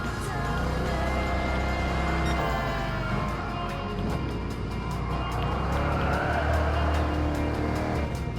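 A Pontiac Firebird Trans Am races in Gran Turismo Sport, its engine holding a steady, loud drone throughout with shifting pitch as it accelerates and corners, alone without talk.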